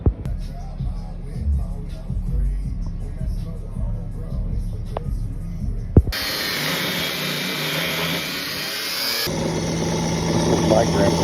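A power tool cuts a tabletop for a homemade lathe table, a loud steady whine with rough broadband roar that switches pitch partway through, following quieter workshop sounds with speech.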